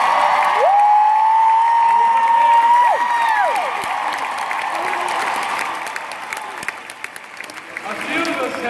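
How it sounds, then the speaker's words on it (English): Convention crowd on its final night cheering and clapping, a loud sustained wash of applause with shouts and whistles rising over it, settling slightly lower toward the end. "If you could cheer one more time."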